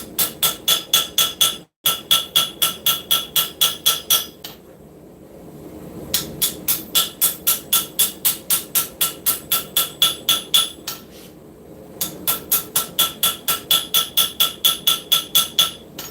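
A hammer planishing hot forged metal in a shop rings in rapid, even bursts of sharp strikes, with brief pauses between runs, loud and close.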